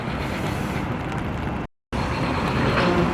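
Broken-down NICE city bus with its engine running after a restart, a loud steady rumble that fills the clip, cut by a brief dropout of silence partway through.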